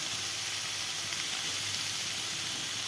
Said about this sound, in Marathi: मसाला भाजत आला ना की मटकी आहे ना ती पण भाजून घ्यायची